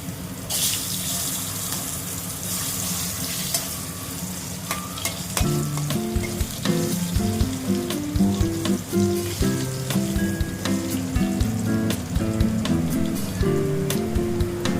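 Loud sizzling as potatoes hit hot oil with dried chillies and nigella seeds, crackling and popping up close, with clinks and stirring noises over a steady frying hiss.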